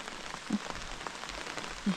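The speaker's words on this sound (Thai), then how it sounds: "ฝนก็ได้ตกแบบนี้ละตกแห้งมาละ" Steady rain pattering down outdoors during a pork grilling session, an even hiss of drops on surfaces with a couple of soft low thuds, no talking.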